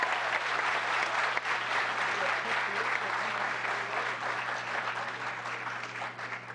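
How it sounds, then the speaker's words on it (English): Sustained applause from the audience at a town council meeting, a dense even patter over a low steady hum, slowly easing off. "So another round of applause."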